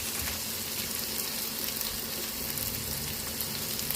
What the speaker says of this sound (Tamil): ஆனியன் நல்லா வதங்கிட்டுருக்கு.